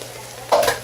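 Hot Italian sausages sizzle in a pan for gumbo, a soft steady fry that jumps into a short, louder burst of sizzling as something is stirred or dropped in, with no talking.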